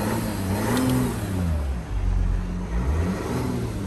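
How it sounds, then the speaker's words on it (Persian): A Porsche engine revved repeatedly, rising and falling in pitch through several sharp climbs in rpm, loud and close with no talking. "ببین این دور موتور چه سری میاد بالا، خیلی سری میره."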